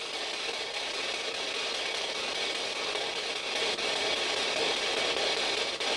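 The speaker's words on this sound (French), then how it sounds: "Ce que vous entendez là, c'est une petite radio." A small radio sweeps through frequencies during a ghost hunt in a leaning tower, giving off a steady, fairly quiet hiss of broadband static with slight fluctuations and no talking.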